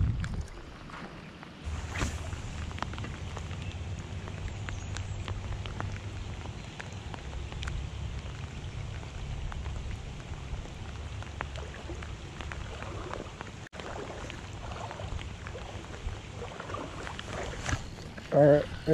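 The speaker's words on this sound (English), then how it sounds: "So now it really is starting to actually rain pretty decent." Steady rain patters across a creek, a dense constant hiss with scattered drops, accompanied by a low rumble and occasional knocks.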